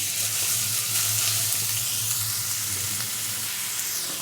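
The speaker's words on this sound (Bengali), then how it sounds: "একটা কড়াইয়ে তেল দিয়েছি এবার এই যে পেঁয়াজগুলো এগুলো দিয়ে দিচ্ছি" Onions fry in oil with a constant, even sizzle and crackle, close up, alongside a low steady hum and no voices.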